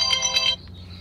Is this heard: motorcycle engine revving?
no